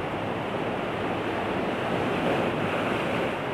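Ocean surf rolls onto Pecaron beach in Srati, Kebumen, on Java's southern coast, a loud, continuous broadband wash of waves with wind noise and no voices.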